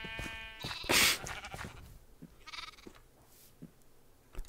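Minecraft sheep bleating in a few short, clear calls inside a farm pen, with a loud burst near the start followed by quieter bleats and small game noises.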